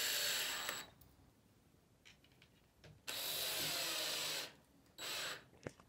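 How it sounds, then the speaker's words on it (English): A power drill bores holes for lower mirror hangers, whining in three separate bursts with quiet pauses between them, close and steady while each runs. "Drill the holes for the lower hangers, then fix the lower hangers screws."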